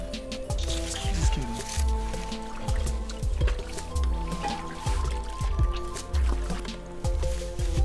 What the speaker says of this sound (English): Maddy, I said wash your hand again